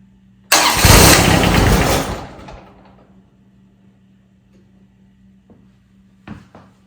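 A John Deere X750 lawn tractor engine cranks loudly for about two seconds, then the noise tails off into quiet. A few faint knocks and clicks follow near the end.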